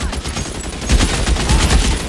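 Bursts of video game gunfire crackle in a rapid, dense volley that swells louder partway through, close and sharp, with no speech over it.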